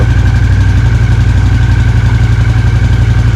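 A Honda CX500 motorcycle engine runs steadily at idle, close and loud, with an even, continuous pulsing throb and no talking over it.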